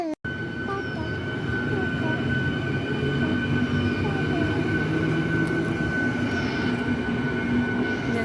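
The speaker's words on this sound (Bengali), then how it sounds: "চলেই গেল ট্রেনটা।" A train rolls past at a railway station, a loud, steady rumble of wheels and carriages filling the whole stretch with a sustained hum and faint squeals above it.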